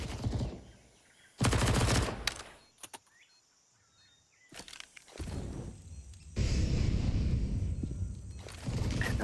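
MP9 submachine gun spraying automatic fire in a professional CS:GO esports match: loud rapid bursts separated by quieter gaps, with a few other game sounds.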